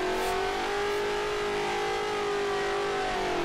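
Race car engine in Assetto Corsa holding a loud, sustained high rev with a steady whining drone that dips slightly toward the end.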